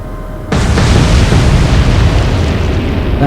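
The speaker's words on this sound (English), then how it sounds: "The initial explosion destroys the front turrets and the superstructure, and secondary explosion finishes off the ship proper" Torpedo hits on a warship in a naval combat game set in the Atlantic erupt in a sudden loud boom after a half-second of quiet, then roll on as a long, dense rumbling explosion that slowly fades.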